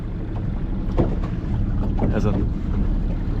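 Outboard motor running steadily on a small project boat out fishing on open water, a constant close drone mixed with buffeting wind noise.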